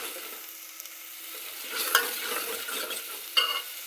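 Mutton curry masala frying in hot oil in a home kitchen, stirred with a spoon: a steady close sizzle with scraping stir strokes and a couple of sharper clinks, no voices.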